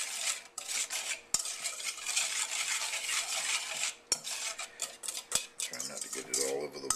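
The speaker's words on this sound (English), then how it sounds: "Just mix that lightly." Batter for crumpets is mixed lightly in a bowl, a utensil scraping and clinking against the sides in quick irregular strokes, close and fairly quiet, with no talk over it.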